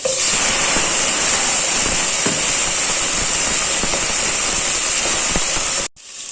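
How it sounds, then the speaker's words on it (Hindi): Chicken pieces hit a hot pan already holding garlic and ginger, setting off a loud, steady sizzle and hiss that runs unbroken for several seconds and then cuts off sharply near the end. "लहसुन अदरक के बाद इसमें डाल देंगे चिकन"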